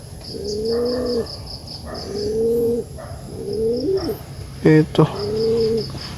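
Pigeons coo repeatedly in a steady series of low, rolling calls, close and clear, with a brief bird chirp near the end and a short spoken word.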